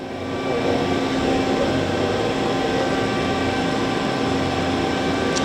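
A 2010 Doosan Lynx 300 CNC lathe spindle running at steady speed, giving a constant even machine hum and whir with no speech.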